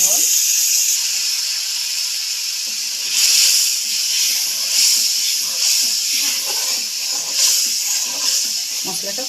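A splash of water hits hot frying turmeric, cumin, coriander and asafoetida for a broccoli masala, producing a loud, close steamy hiss that swells and fades in waves.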